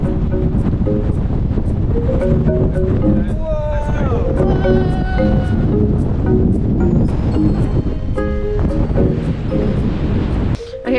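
Strong gusts on open moorland in the Peak District buffet the microphone in a constant roaring rush, with a voice briefly heard through the wind noise.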